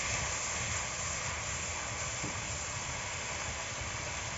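Chopped onions fry in a pan for chicken kosha, giving a steady, dense sizzle and hiss that runs throughout without a break.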